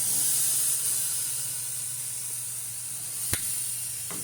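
Pork chops searing in a cast iron skillet give off a steady, loud sizzling hiss that slowly eases. A single sharp tap sounds near the end.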